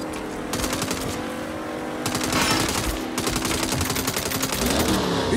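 Rapid automatic gunfire rattles almost continuously through a Saints Row firefight, bursts of machine-gun fire stacking up with brief gaps, loud and close, with some shouting in the game mixed underneath.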